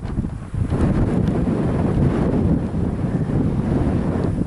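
Strong wind buffets the microphone outdoors on open ground during an archery antelope spot-and-stalk hunt, a loud continuous rumbling roar with gusty swells throughout and no talking.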